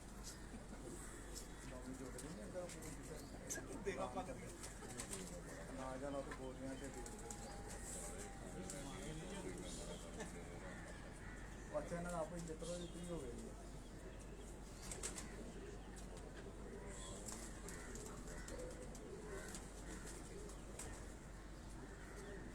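Tonsi pigeons coo softly in a loft, with wing flaps and scattered chirps, while someone talks steadily over the birds throughout.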